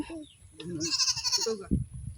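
A goat bleating nearby on a rainy farmstead, one wavering cry rising over background voices and outdoor noise, with people talking around it.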